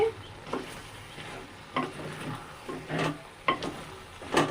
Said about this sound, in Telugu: నేను ఈ బెండకాయలు కూడా ఇందులో వేసేసుకుంటాను